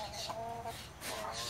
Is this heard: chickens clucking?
yes